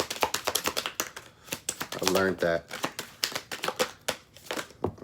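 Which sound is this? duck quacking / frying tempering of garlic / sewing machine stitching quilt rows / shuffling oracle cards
shuffling oracle cards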